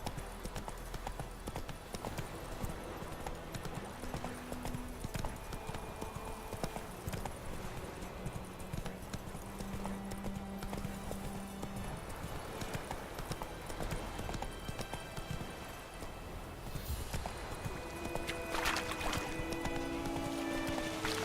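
Horse hooves clip-clop at a steady trotting rhythm in The Witcher 3, a game soundtrack with occasional musical tones and ambient sounds in the background, with no speech.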